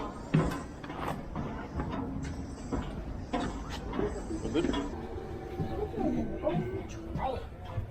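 An old Oscar passenger train rumbles and rattles steadily on a family day outing, with clanks and squeals from the cars while people talk over it.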